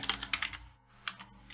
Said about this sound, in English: Adds a certain amount of stress to typing signs when you're recording too.